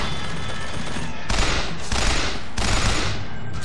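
Rapid volley gun fire in the video game BioShock Infinite: loud, dense bursts of blasts in three or four surging waves over a constant background roar, with no talking.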